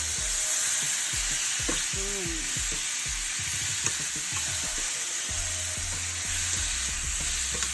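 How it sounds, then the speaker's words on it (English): Curry and vegetables being stirred in a hot pan for a coconut milk shrimp curry, with steady loud sizzling and a run of spoon or spatula scrapes and knocks against the pan, no talking. "Go ahead and mix it around. Make sure that all the curry covers all my veggies."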